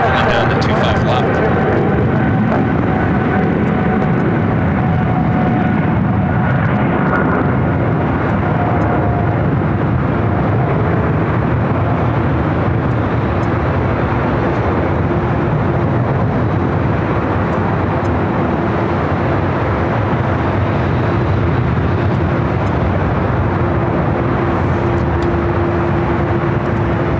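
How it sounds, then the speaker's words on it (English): A Boeing 777 freighter rolls down runway 25 left at LAX for takeoff, a loud, continuous broadband jet roar that holds steady and fills the whole stretch. "Cargo King, a 777 freighter, rocket rolling down to 25 left."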